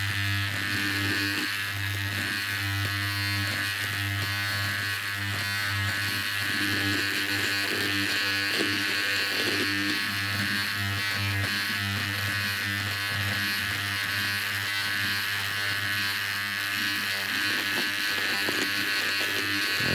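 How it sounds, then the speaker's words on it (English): A handheld electric cutting tool buzzes steadily through fabric stitches, a continuous close motor drone with a constant hum running unbroken throughout. "This is cutting really well into the stitches."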